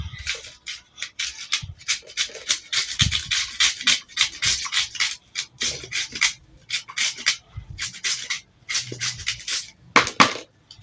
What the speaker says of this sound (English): So I'm going to be grating the onions.